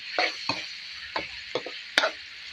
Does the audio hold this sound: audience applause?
no